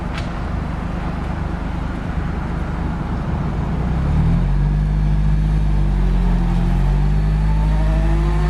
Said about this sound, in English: That boy VTEC sounds crazy.